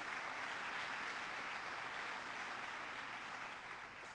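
Audience applause fills the room, a steady, dense roar of many hands clapping at constant loudness, with no voices over it.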